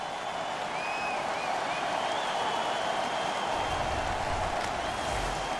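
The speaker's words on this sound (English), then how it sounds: "The crowd is ecstatic." A crowd cheers and applauds after a hockey fight in the NHL 15 video game, a broad, steady roar from the arena that holds throughout with no break.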